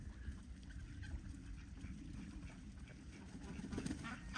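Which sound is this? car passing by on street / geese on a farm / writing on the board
geese on a farm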